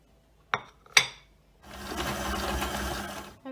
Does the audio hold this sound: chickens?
no